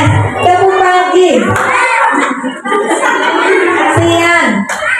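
An audience of parents at an Indonesian school parenting seminar joins in the 'tepuk pagi' clap chant, with many voices chanting together in a loud, rhythmic group response and clapping blended into the singing.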